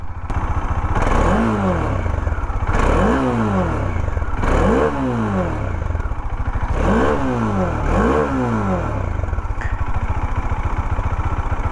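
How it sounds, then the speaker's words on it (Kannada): A 2017 Bajaj Dominar 400 motorcycle revs hard from a throbbing idle, close and loud, its exhaust rising and falling in about five evenly spaced pulls over a steady engine chug. "2017 ಮಾಡೆಲಿನ ಡಾಮಿನರ್ 400ನ ಬೇಸ್ ಸೌಂಡು"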